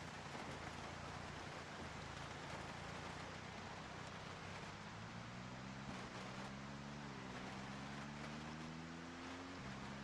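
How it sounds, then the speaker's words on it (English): Steady rain falls in the zombie survival game Project Zomboid, a constant broadband hiss with a low droning hum underneath and a faint rising tonal whine toward the end; no one speaks. "I just hear rain."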